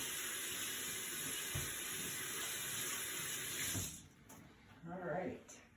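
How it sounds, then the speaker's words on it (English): A kitchen tap in a cooking class runs steadily as food is rinsed under it, then shuts off partway through, leaving quieter splashes and faint voices. "let's rinse them off"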